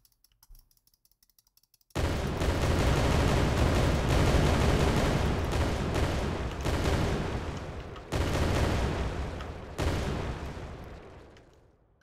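Grenade explosions in an Unreal Engine 5 video game: loud, abrupt broadband blasts, with one long roaring burst followed by two more sudden hits that fade out, alone with no talk.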